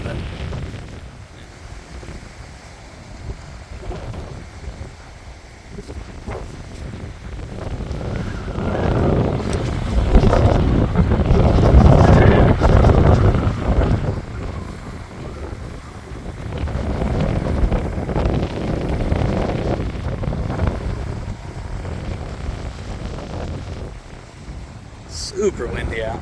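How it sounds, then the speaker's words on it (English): Strong wind buffets the microphone in a steady, roaring rumble that swells and fades, with a voice speaking intermittently over it. "super windy out."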